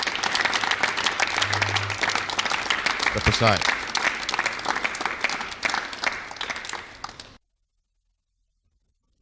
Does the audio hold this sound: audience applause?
yes